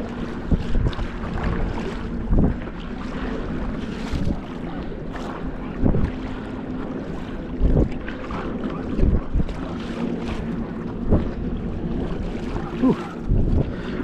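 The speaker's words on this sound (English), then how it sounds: "A lot of boats and jet skis suddenly coming in, and the water is a little rough." Boats and jet skis moving across rough open water off Camano Island, with steady wind buffeting and a continuous churning rumble broken by repeated thumps of hulls slapping the chop.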